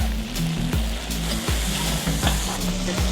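Meat for Uzbek plov fries in oil in a pot, a loud close sizzle with a low rumble beneath and periodic stirring clanks and scrapes every half second or so.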